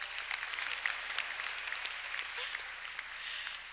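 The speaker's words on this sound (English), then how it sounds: "they deserve an applause" A commencement crowd applauds the faculty at a university graduation ceremony, a broad, sustained wash of many hands clapping at moderate distance with no talk over it.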